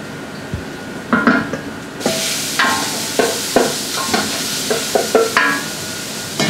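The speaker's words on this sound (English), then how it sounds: "we want to add a lot of colour to the meat and really good frying" Kangaroo meat sizzles loudly in a hot pan, a steady hiss that jumps when the food is stirred, with repeated scraping and clattering of a utensil.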